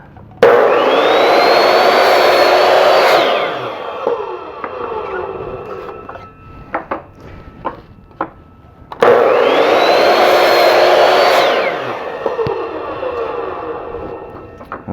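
A power saw cuts two wooden pieces: two loud whining cuts, each rising as the blade spins up, then winding down, separated by a pause with a few clicks and knocks of handling, close by.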